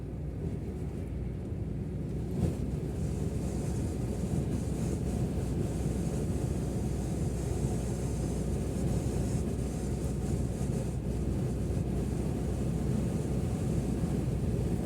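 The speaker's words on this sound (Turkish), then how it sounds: "Rüzgar çok sıkıntılı." Strong wind on the Osmangazi Bridge roars and buffets against the microphone in a constant, heavy rumble, with a low engine-like drone underneath and no voices.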